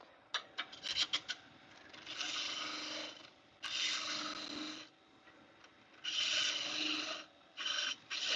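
A freshly ground skew chisel cuts wood on a lathe in a woodworking shop, giving bursts of scraping, rasping noise in several long passes with short pauses between them, plus a few sharp ticks near the start.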